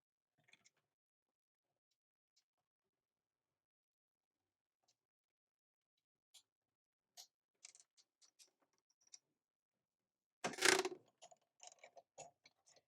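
Stampin' Up hot foil platform being slowly cranked through a die-cutting machine, heard as sparse faint clicks and ticks with long quiet gaps, then a louder brief grinding burst near the end followed by scattered small clicks.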